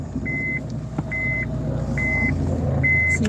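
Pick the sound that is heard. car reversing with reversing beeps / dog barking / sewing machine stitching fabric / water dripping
car reversing with reversing beeps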